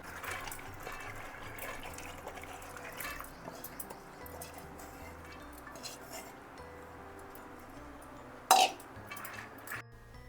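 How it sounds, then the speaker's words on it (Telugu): Two cups of water poured into a pressure cooker holding soaked chana dal, a soft running trickle with faint clinks of utensils and one sharp metallic clank near the end. "సో 2 కప్స్ ఆఫ్ వాటర్ పోస్తున్నాను ఇక్కడ"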